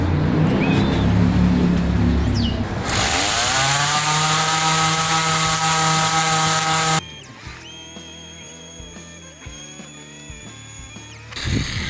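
Power sander with 100-grit sandpaper working a microcement concrete countertop: a steady loud motor whine that drops in pitch under load, then a changed, sputtering hum with pulses, running alone without talk.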